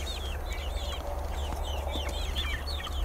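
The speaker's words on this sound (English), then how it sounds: "I have the Australorps that I hatched out at the beginning of July" Young Australorp chickens, about eleven to twelve weeks old, cluck and cheep in a steady chorus of short chirping calls, moderately close over a constant low outdoor hum.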